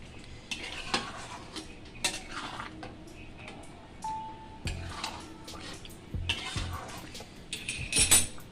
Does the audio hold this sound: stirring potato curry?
yes